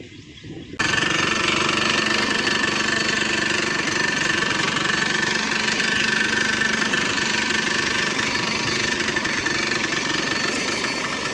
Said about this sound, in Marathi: मला भाऊ झटके मारायला लागलंय मशीन. त्याचं ऑइल संपलंय.